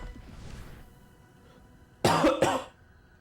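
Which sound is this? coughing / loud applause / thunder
coughing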